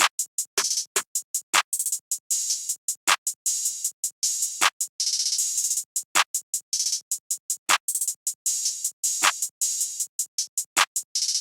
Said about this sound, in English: it's a pretty simple openhat pattern I would say